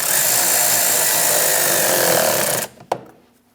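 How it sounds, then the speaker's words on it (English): Power tool whirring steadily for a Chevrolet Express 2500 hose clamp, loud and close, then cutting off abruptly followed by a single sharp click and fading quiet. "Tighten the clamp."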